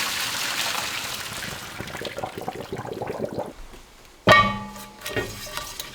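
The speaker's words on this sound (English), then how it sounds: "I'm gonna put that to the side and go ahead and drain this" Cooked pasta water drains and splashes from a pot, with a steady rushing pour that thins out, followed by a sudden loud clatter of metal near the end and a brief trickle after.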